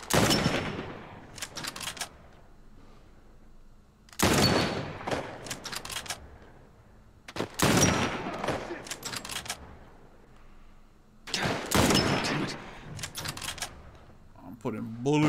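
Gunfire from the video game The Last of Us Part 1, in a suburban setting: four loud, sharp bursts of shots at fairly regular intervals, with a voice talking in the gaps between them.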